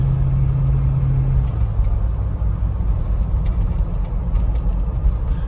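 A 1990 Jeep Grand Wagoneer drives down a two-lane road, its engine a steady low rumble under constant road and wind noise, heard from inside the cabin with no talking.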